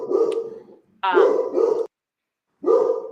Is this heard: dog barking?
yes